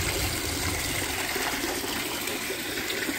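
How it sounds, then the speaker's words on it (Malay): Hillside stream water pouring steadily into a pool at a forest campsite in Hulu Langat, a continuous broad gushing rush with no voices, close and even throughout. "Yang ni air daripada bukit. So dia turun penuh"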